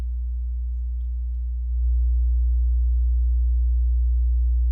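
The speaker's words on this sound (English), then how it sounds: "I'm going to set it to a sine wave, and I'm going to set that sine wave to be something like 60 Hz." A pure, deep 60 Hz sine tone from a Pro Tools oscillator hums steadily, swelling a little louder partway through and holding constant to the end.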